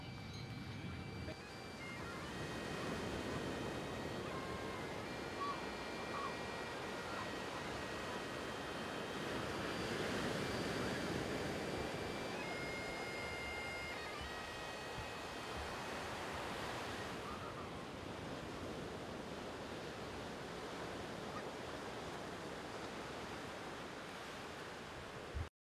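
Ocean waves wash onto a beach in a steady, continuous surf roar with some wind noise, holding at a fairly even level throughout with no voices.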